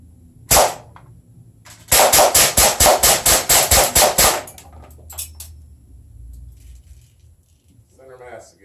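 HK MP5-K PDW CO2 semi-auto BB gun firing: one sharp shot, then a rapid even string of about eleven loud cracks, followed by quieter handling noise and a brief bit of talk near the end.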